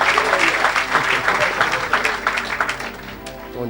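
A church congregation claps loudly and continuously during a worship service, with voices mixed into the steady applause that fades slightly toward the end.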